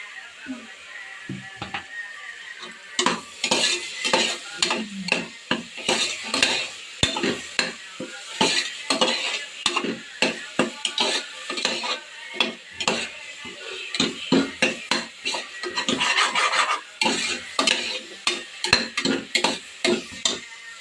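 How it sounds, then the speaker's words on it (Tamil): Onion and garlic sautéing in oil for a country chicken curry, with a spoon stirring and scraping the pan in a busy, continuous rhythm over a steady sizzle, close and fairly loud. "வெங்காயம் பூண்டு நல்லா வதங்கிடுச்சு."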